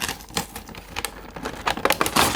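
Pokémon Arceus V card box packaging being pried open, with scattered crackling, tearing and scraping bursts of cardboard and plastic, close and irregular, with no voices.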